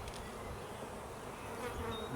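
Honeybees buzz steadily and close by as they are moved into a small nucleus hive, a dense continuous hum with no voices over it.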